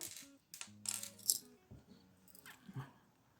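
A small cut piece of jewelry chain for coil earrings is picked up, giving a few faint, close metallic clinks and light rattles that stop and start, with no talking.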